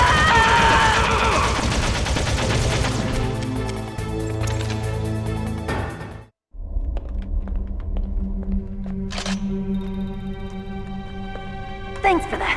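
Gunshots ring out in a Metal Gear Solid cutscene on PS1, sharp reports over a loud, music-laden scene with voices, then a brief hush before ringing, sparse impacts and tones follow.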